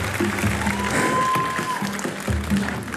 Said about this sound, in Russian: Николас Кин, ваши аплодисменты.